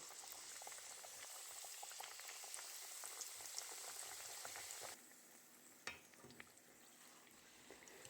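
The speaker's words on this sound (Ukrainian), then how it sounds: "Це вже інші чебуреки відправляю смажитися." Steady, dense sizzling and bubbling of meat-filled chebureks deep frying in very hot oil, continuous throughout, dropping slightly in level midway with a brief clatter.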